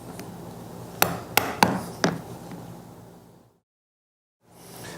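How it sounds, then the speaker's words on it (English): Waste is chiseled out of a wooden dovetail joint: four sharp, close knocks in quick succession over a soft background hiss, then a stretch of near silence. "and chisel it out"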